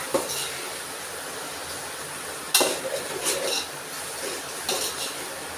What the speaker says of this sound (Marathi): मसाला असा लाल परतून झाला भाजून बघा